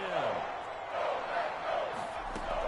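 Stadium crowd noise in a football video game, a steady broad roar of fans building slightly in waves, sitting close and continuous throughout with a commentator-style voice layered faintly under it.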